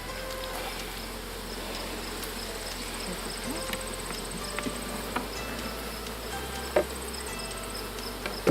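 Honeybees buzzing around an open beehive, a steady, dense drone from many bees close by that holds throughout, with a few faint knocks and clicks.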